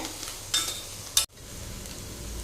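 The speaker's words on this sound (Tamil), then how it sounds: "இப்போ இந்த காய்கள் எல்லாமே வந்து ஒரு ரெண்டு நிமிஷம் நம்ம வதக்கி எடுத்துக்கலாங்க" Carrot, capsicum and peas sautéing in butter in a pan, a steady soft sizzle broken by a couple of brief utensil scrapes and a sharp clatter partway through.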